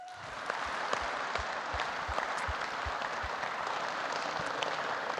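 An indoor audience at a college in-service gathering claps to welcome two presenters, a dense and steady round of applause heard from within the room.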